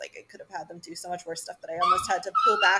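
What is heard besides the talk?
dog whimpering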